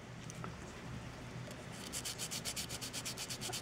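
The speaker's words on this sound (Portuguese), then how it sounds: "Aqui onde eu estou lixando agora é em cima da fita, só para tirar o excesso" Quiet rubbing at first, then rhythmic sanding strokes on a 1/72 scale plastic model kit over masking tape, a steady back-and-forth rasp repeating about every quarter second, close by.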